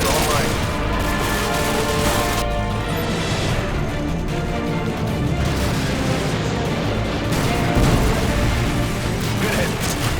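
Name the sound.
AGM missile strike and gunfire in video game Call of Duty: Modern Warfare 2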